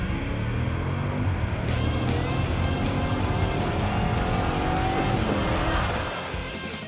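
Jeep Grand Cherokee launched with launch control at 4,000 revs, the engine roaring loud and close as it accelerates hard, rising through gears with a brief tire squeal, then fading slightly at the end.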